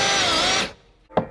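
A power drill bores a pilot hole into the interior of a Smokey and the Bandit tribute truck, with steel behind the panel. Its loud, steady whine runs for about half a second and then stops, followed by a brief knock.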